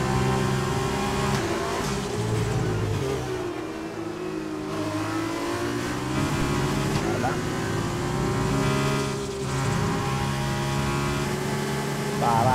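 A Formula 2 race car engine in the F1 2020 racing game revs and shifts continuously at high pitch, rising and falling with gear changes, under excited Italian commentary.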